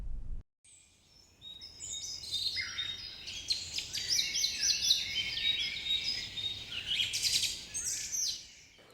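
Many wild birds of several species chirp and sing continuously at a feeder outdoors, a dense overlapping chorus of bright tweets and trills with no talking.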